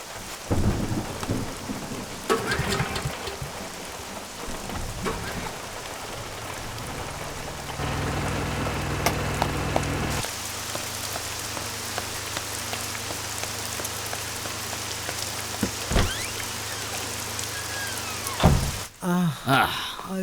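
Heavy rain pours steadily with rolling thunder cracking and rumbling across the storm. The sound is loud and continuous, with a faint voice somewhere underneath.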